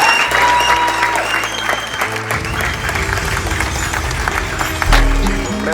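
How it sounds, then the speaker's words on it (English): Audience applause for Perry Blake at a community talk, a dense sustained wash of many hands clapping at a steady level throughout, with some low rumble beneath. "So I just wanted to get one more round of applause for Perry."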